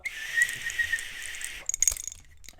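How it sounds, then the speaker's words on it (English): A thin, high whistle blown weakly for about a second and a half, breathy and wavering, then a brief rustle and silence. "That whistle doesn't work too great, does it?"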